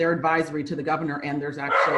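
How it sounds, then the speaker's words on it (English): A dog barks and yips several times in the background while a person keeps talking in a meeting. "that's my dog"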